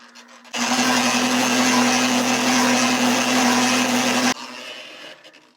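Feed mixer paddles spinning to coat homemade sheep and goat feed, a loud steady motor whir with a strong hum that starts abruptly, runs for about four seconds, then cuts off and winds down.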